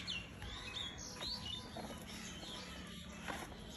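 Pet racing pigeons, Pakistani-type birds kept as a hobby in a loft, give soft calls and chirps over steady background noise, with brief bird sounds scattered throughout and no talking.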